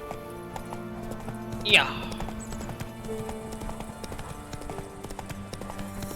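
Hooves of the horse Roach clip-clop steadily in a video game, with a brief whinny partway through, while a person talks over the footfalls.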